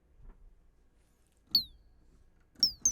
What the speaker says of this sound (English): This is more of a synth bird.